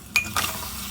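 Spices, paste and pork frying in a pressure cooker, a soft continuous sizzle with two quick scraping stirs near the start.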